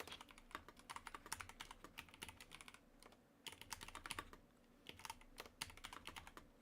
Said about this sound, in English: Sound of that keyboard, dude.